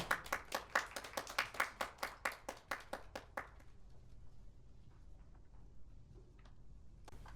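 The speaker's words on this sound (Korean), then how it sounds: "박수 부탁드리겠습니다" At a Korean lecture event on Hallyu content, a small audience claps in a regular, close rhythm of distinct individual claps for about three and a half seconds, then stops, leaving quiet room tone with faint ticks.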